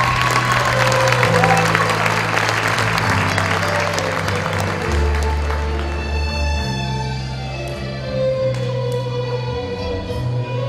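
Applause rings out for newly graduated students at a school graduation ceremony, a dense crowd clapping loudly and continuously, while music with sustained tones plays underneath and the clapping gradually thins toward the end.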